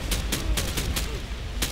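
Rapid bursts of automatic gunfire from computer-controlled bots in Call of Duty, several sharp volleys spaced through the moment over a steady game background.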